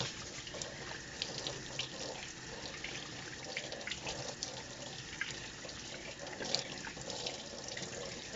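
Running tap water splashes steadily over soapy, homemade-liquid-soap lathered hands being rinsed at a sink, a close continuous wash with small drips and splashes and no speech.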